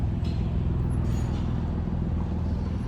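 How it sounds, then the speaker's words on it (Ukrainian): An Infiniti M35 car rolls into a garage for suspension diagnostics, a steady loud engine and road rumble close by with a faint high whine above. "Да, наш Infiniti заїжджає на діагностику ходової."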